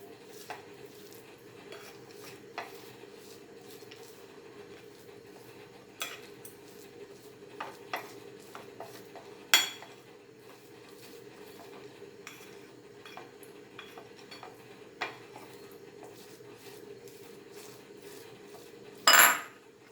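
A utensil stirs roasted cashew and coconut pancake filling in a bowl, giving soft scraping and a few sharp clinks against the rim, with one louder knock near the end.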